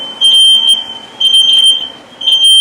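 A kitchen smoke alarm set off during cooking sounds loud and close, three shrill piercing beeps in a steady repeating pattern with short gaps between them.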